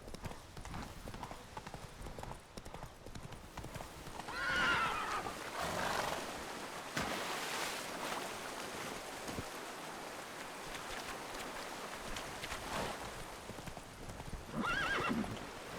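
Horse hooves clip-clop in a steady rhythm in The Witcher 3: Wild Hunt, with high whinnies breaking through twice over an ambient game backdrop.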